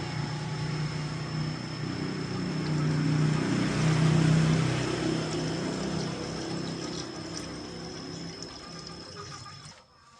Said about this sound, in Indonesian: Ini kita isi air radiator.